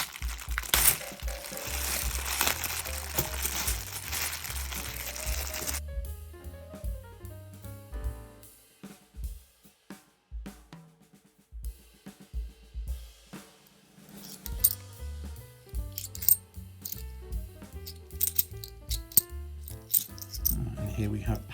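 Stapled paper coin bags holding 50p coins being torn apart by hand: loud crinkling, ripping paper and rattling coins come in bursts, close up, with someone talking over parts of the handling.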